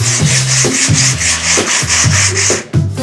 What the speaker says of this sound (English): So got everything sanded down.